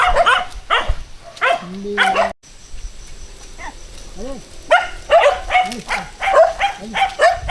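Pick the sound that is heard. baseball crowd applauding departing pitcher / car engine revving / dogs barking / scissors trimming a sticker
dogs barking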